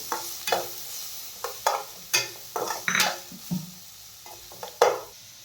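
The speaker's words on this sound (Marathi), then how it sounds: "छान त्याला सोनेरी रंग येईपर्यंत आपल्याला कांदा परतून घ्यायचा आहे" Finely chopped onion sautéing in a pan toward golden brown, a soft sizzle broken by repeated sharp spatula scrapes and clinks against the metal at an uneven rhythm, close up with no voices.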